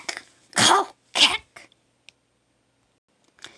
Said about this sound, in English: You may cough a lot.